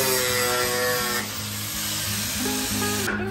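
Power tool cutting off the excess length of bolts on a tire mount, a steady close whine that briefly dips mid-cut and resumes, loud and alone.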